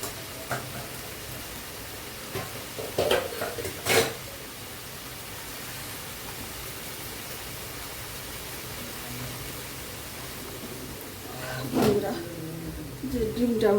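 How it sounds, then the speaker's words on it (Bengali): An omelette curry sautés in a pan, a soft, steady sizzle with a few brief clinks and scrapes of stirring, quiet beneath someone talking. "ভালো করে কষিয়ে নেব।"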